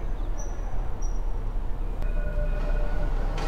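A metro train rumbles along an elevated track overhead near a bus stand and mall in Curepipe, a steady broad roar with faint squeals, heard from street level below.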